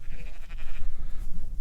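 Ewes, crossed with a Charollais-type ram, give a couple of wavering bleats from close by over low farmyard rumble, with no talking.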